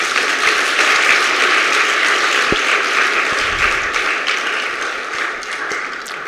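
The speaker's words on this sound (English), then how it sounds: "one more claps for Guruji" A function audience claps steadily in honour of Guruji, a dense, close wash of hands with a few sharper taps standing out near the end, no voices over it.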